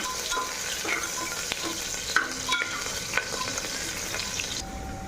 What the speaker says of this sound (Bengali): পেঁয়াজটা একটু লাল করে আমি হালকা লাল করে ভেজে নেব